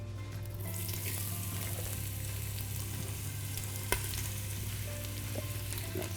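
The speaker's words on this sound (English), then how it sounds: "Once you put the onion in, you stir it for a bit" Diced onion frying in a pan for Somali rice, a constant close sizzle with occasional stirring scrapes and one sharp utensil knock, no voices.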